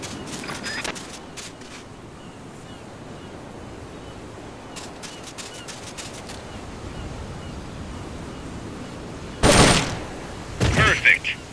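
Shooting practice in Metal Gear Solid: Peace Walker on a beach, with a few faint clicks early on, then two loud, close bursts of gunfire near the end over a steady surf-like background.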